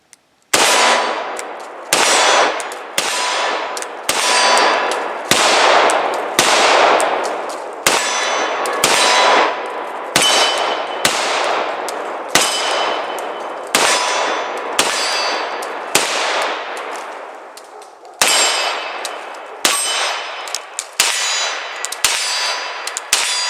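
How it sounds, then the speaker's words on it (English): CZ pistol shots fired double action at a small steel swinger target outdoors, about twenty sharp cracks in a steady, evenly spaced string, each followed by a bright ringing clang of the steel plate, loud and close with no talking. "It's a lot of fun to shoot, especially hitting that little steel swinger I've got back there."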